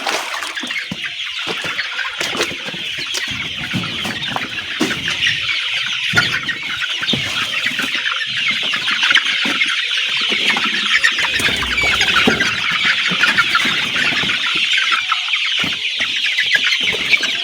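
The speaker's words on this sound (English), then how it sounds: "it is already time to feed our birds and they are eagerly waiting for their feeds" Layer chicks in a poultry house at feeding time, a dense, continuous chorus of clucking, cheeping and squawking from many birds, steady and fairly loud throughout with no talk.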